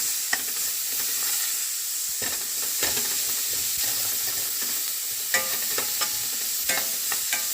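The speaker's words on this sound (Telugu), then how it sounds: "హోమ్ మేడ్ అల్లం వెల్లుల్లి పేస్ట్ వేసేసి ఇక్కడ మంచిగా ఫ్రై చేయాలి" Homemade ginger garlic paste frying in a pan for ridge gourd curry, a steady close sizzle with occasional sharp stirring scrapes and pops, and no one talking.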